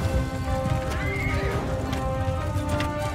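A horse in the video game Mount & Blade 2: Bannerlord whinnies and clip-clops amid battle noise, with the neighing and hoofbeats running steadily and loud throughout.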